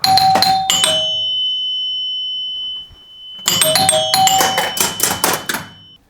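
Bright mechanical xylophone chimes from a 1978 Gottlieb solid-state pinball machine ring out in quick clusters, pause with a lingering tone, then return in a rapid burst of metallic notes.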